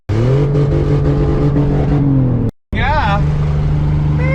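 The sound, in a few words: car engine revving and accelerating in passing gear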